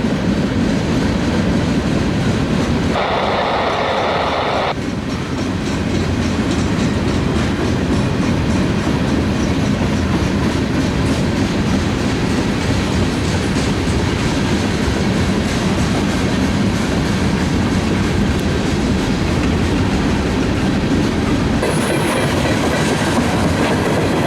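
An eastbound train rolls steadily through track crossovers, a continuous loud rumble with wheel clatter and brief squealing, heavy and close throughout.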